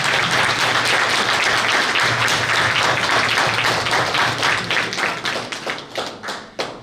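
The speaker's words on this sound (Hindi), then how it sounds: "यह दादा के लिए एक बार जोरदार ताली हम सभी थेरेपिस्टों की ओर से और सभी स्टूडेंट की ओर से" Sustained, dense audience clapping from a crowd of therapists and students keeps going loudly, then breaks into scattered, uneven claps and fades out.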